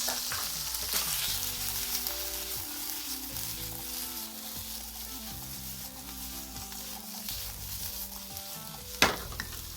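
Sponge gourd sautéing in a pan, a loud continuous sizzle heard close up, with stirring and one sharp clatter near the end and no talking.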